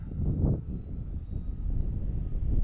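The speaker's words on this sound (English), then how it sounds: "I like flying a Decathlon." Low, droning propeller engine hum of a Decathlon airplane in a video game, steady and fairly loud with a slight rise toward the end, no voices.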